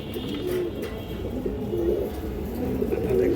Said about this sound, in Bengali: এই পেয়ারটা কণ্ঠি গলা কবুতর